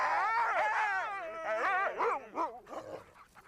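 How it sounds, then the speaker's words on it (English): Sled dogs bark, whine and howl at the Jungfrau terminus high in the Swiss Alps, several animals clamouring together in a loud, continuous burst that tapers off toward the end. "you can take a ski lesson, trek through the glacier, or ride on a dog sled"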